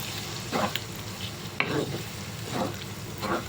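A spoon stirs spaghetti bolognese sauce in a sizzling pan, giving several scraping, bubbling strokes at irregular intervals over a steady frying hiss, close and alone without speech.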